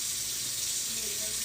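Tap water running while rinsing tie-dyed fabric, a steady hissing gush into a sink, close and continuous for its brief length.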